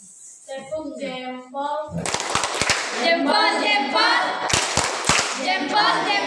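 Children in an Indonesian classroom chant the tepuk jempol routine in unison, breaking into short bursts of sharp hand claps between the sung phrases; the voices are close and lively.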